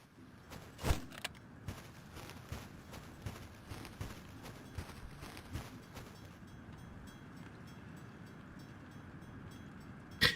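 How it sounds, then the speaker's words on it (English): A train in a Doom mod game clatters in a steady, regular rhythm of soft thumps, fairly quiet and continuous, fading to a low hum toward the end with a sharp click at the close. "You think I should wait for the train to leave"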